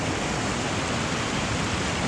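Rushing river water pouring over a waterfall, a loud, continuous broadband roar filling the whole stretch with no breaks and no voices.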